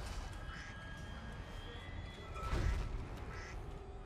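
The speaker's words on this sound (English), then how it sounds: "The duck! The duck has sounded!" A duck quack sounds as a timer alert in the Dead Space video game, a short honking call rising briefly over a low ambient game drone, with a dull boom at the same moment.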